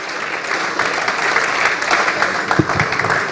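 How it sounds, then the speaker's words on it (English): Audience at a national workshop session in Nigeria claps steadily, a dense, moderately loud wash of many hands with no voices, slightly uneven toward the end. "Please clap very well."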